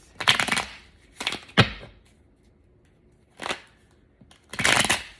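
Playing cards being shuffled in several quick riffling bursts, separated by short pauses, close up with no talking.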